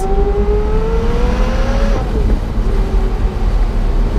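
A Porsche Carrera GT's engine revs loud and close, its pitch climbing steadily then dropping sharply before settling back into a lower, steady drone.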